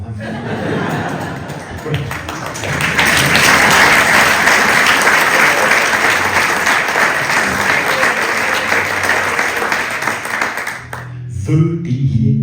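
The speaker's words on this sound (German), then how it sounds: "Ja, so einen Applaus hätte ich auch gerne mal." A cabaret audience breaks into loud, sustained applause with scattered chuckles and laughter, swelling after a brief quieter start and ending with a voice speaking.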